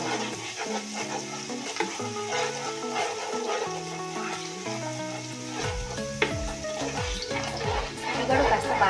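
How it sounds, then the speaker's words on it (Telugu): Ginger pieces frying in a pan for sorrel fish curry sizzle steadily while a spoon stirs and scrapes, with low music running underneath and occasional sharper clinks near the end. "ఇది కూడా కాస్త బాగా వేగాలి."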